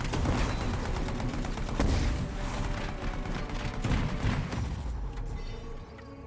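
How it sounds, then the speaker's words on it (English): Automated turret gunfire in the game Anthem rattles off in dense, rapid bursts, loud and continuous for several seconds before cutting away, with no talk over it. "Oh, there's another turret shooting me."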